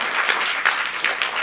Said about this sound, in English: may I have a big round of applause for our pianist